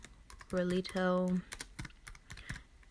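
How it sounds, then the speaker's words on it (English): Soft, irregular taps of typing on a computer keyboard come through close by, and a brief voiced sound interrupts them. "Sorry if you guys hear my typing."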